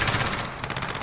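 Rapid automatic gunfire from Call of Duty Warzone rattles in a fast, continuous burst of closely spaced shots, loud and dense for about a second.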